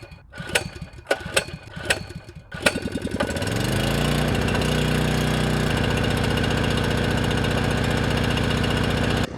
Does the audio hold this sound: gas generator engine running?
yes